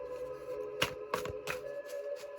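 Several quick papery riffles as tarot cards are side-shuffled, short bursts spaced irregularly over a faint steady hum.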